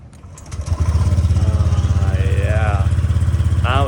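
A motorbike engine that had water get inside coughs, then catches and settles into a steady, close, loud putter with a rapid rhythmic pulse, with a voice briefly heard over it.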